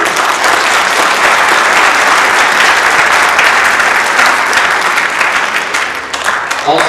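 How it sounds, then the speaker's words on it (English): A loud, close audience at a civil rights program gives a round of applause for the organizers, continuous dense clapping that holds for several seconds and then tapers slightly at the end. "so if we can give them a round of applause."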